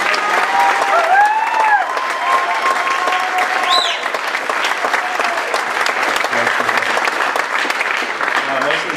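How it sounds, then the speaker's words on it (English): Loud, sustained audience applause at a high school spring choir and band concert, with cheers and whoops rising over the clapping and faint voices mixed in. "So round of applause for these guys."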